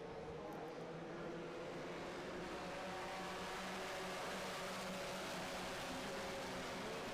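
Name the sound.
race cars starting on green flag at Indy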